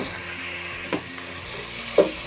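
Oyster sauce is stirred into a pan of chilli chicken, with a steady broadband sizzle throughout and two brief louder scrapes of the spoon near the middle and end, close up and without talk.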